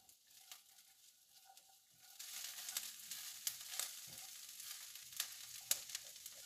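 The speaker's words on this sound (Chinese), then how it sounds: "爆一爆啲洋葱" Onions stir-frying in a hot wok over medium-high heat for curry filling, starting as a faint sizzle then rising to a steady, louder crackling with sharp spatula scrapes and clacks; no one speaks.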